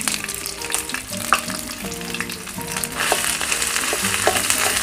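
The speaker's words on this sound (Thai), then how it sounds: "น้ำมันร้อนแล้วก็ต่อด้วยพริกแกงเลยครับ" Red curry paste sizzles and crackles steadily in hot oil as it is stir-fried for a Thai stir-fry of apple snails with pickled bamboo shoots, with occasional utensil scrapes and a frying hiss that grows louder toward the end.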